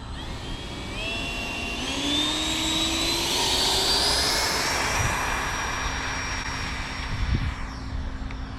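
Electric ducted fan of a Freewing T-45 Goshawk 90mm RC jet spooling up outdoors early in the morning, a rising whine climbing steadily then holding a high steady tone, moderately loud and close, with a couple of brief knocks near the end.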